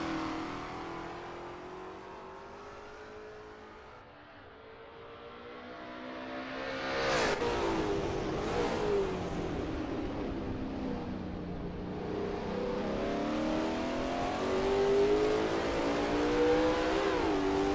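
Lola T70 MkII Spyder race car lapping Bathurst in a racing game, its engine droning and rising steadily with a couple of sharp revving surges and whooshes midway, sustained and fairly close with no talk.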